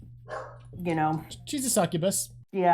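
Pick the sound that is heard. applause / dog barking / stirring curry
dog barking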